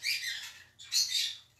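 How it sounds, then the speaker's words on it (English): Pet lovebirds kept for breeding in a crowded closet give two bursts of shrill squawking and chirping, loud and close, with no talk over them. "kind of full in there now with the lovebirds that are breeding"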